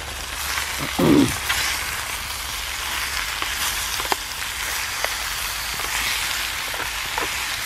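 Food sizzling in a mess tin over a homemade biscuit tin firebox, a steady crackling hiss broken by a couple of clattering stirs and scattered pops.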